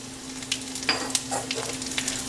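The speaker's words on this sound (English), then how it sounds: "I am going to add dry chilies and cumin seeds, coriander seeds," Dry chilies and cumin seeds sizzle in hot oil with a steady crackling hiss, broken by brief louder pops and spits, close and continuous with no talk.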